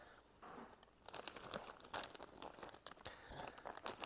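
Paper towel crinkling and rustling inside a bag, giving a close, irregular run of dry crackles and crumples over about four seconds.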